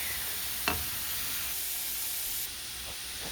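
Onions cook in a pan for shepherd's pie, giving a soft, steady sizzling hiss. A light clink is heard early on, and the sizzle drops slightly near the end.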